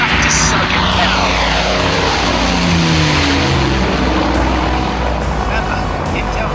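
A fleet of bomber drone aircraft drones loudly, with engines roaring continuously and slowly shifting in pitch as they pass, dense and close throughout.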